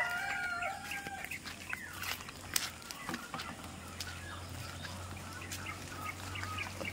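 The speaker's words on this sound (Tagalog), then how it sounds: "Ang tangkad nitong isang manok na to, oh." A chicken on a Philippine farm clucks and crows faintly at a distance, short calls scattered over a steady low hum of outdoor ambience, with no talking.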